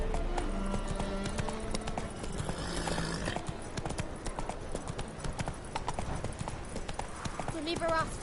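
Horse hooves clip-clop steadily in a PS4 video game, with a voice talking over the rhythmic hoofbeats and a brief whinny-like sound late on.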